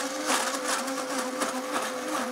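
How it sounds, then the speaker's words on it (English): A Vitamix blender running with frozen fruit to make a frozen sorbet, a loud, steady, close high whine with buzzing motor tone that holds throughout alone. "Put on our lid, take our tamper, turn on our machine."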